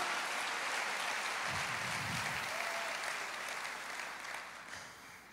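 Church congregation applauding during a worship service, a broad wash of clapping that holds steady and then fades toward the end, with a brief low rumble early on.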